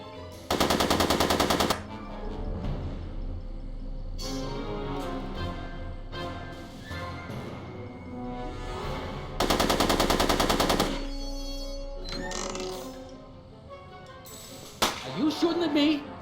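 Two loud, dense bursts of rapid machine gun fire, each about a second long and several seconds apart, with rumbling movie-scene sound and scattered sharp hits between them.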